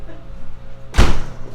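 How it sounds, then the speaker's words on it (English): A house door slams shut once in a backyard at a home in Bedford, Texas, a loud, close broadband thud that rings briefly and fades, following quiet background noise. "Slamming the door."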